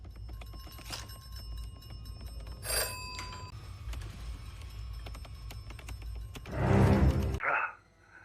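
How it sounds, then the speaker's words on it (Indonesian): An old-style telephone bell rings in two short bursts, then a louder, longer ring over a low steady background hum, with no talking. "Tak lama setelah memakannya, telepon pun berbunyi"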